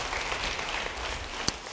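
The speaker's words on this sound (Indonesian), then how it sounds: "Beri tepuk tangan bagi dia." A church congregation applauding during a sermon, a soft, even wash of clapping at moderate distance with one sharp louder clap standing out near the end.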